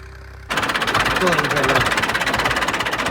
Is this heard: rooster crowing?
no